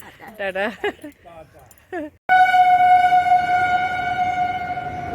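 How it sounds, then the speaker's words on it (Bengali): A train sounds a loud, steady horn at a station platform. It cuts in abruptly after a few seconds of people talking and holds unbroken for about three seconds. "চলে এলো আমাদের ট্রেন উঠে গেছে প্ল্যাটফর্মে"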